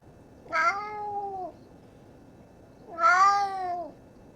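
Two drawn-out cat meows about two seconds apart, clear and close, in an otherwise quiet room.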